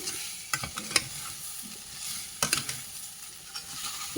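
Ginger, green chilli, carrot, beetroot, onion and cabbage fry in a pan for a vegetable breakfast, a steady soft sizzle broken by several sharp spatula scrapes and stirring knocks.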